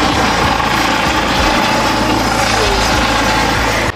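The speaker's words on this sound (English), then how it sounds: "that's actually a medical helicopter" A medical helicopter flies overhead, its rotor and engine making a loud, steady, close roar that fills the clip before cutting off abruptly at the very end.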